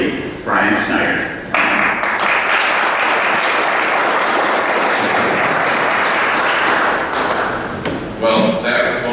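An audience at a residential fiber internet service announcement in Medina County breaks into sustained, loud applause, dense and even for several seconds before tapering, with a few clattery thumps at the edges.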